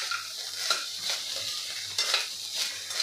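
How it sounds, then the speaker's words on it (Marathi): Jowar upma with fried peanuts and plenty of chopped coriander is stirred and sautéed in a pan, with repeated scraping strokes over a constant soft sizzle. "आता हे सगळं आपल्याला परतून घ्यायचं आहे, मिक्स करून घ्यायचं आहे"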